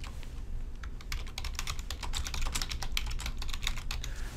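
Steady, rapid keystrokes on a computer keyboard while filling out a purchase order form in NetSuite software, close and continuous with uneven clusters of clicks and no talking.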